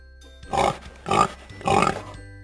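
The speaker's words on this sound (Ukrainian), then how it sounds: "це ж поросятко" A pig grunts three times in a row, evenly spaced, loud and close, with quiet background between.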